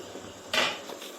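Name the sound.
opening idli steamer pot to check rice puttu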